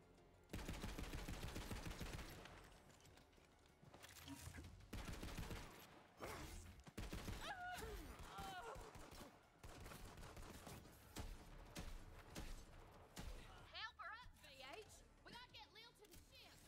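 Rapid gunfire in the video game Borderlands 3, loud bursts of automatic shots and fusillades near and continuous, with someone talking over parts of it.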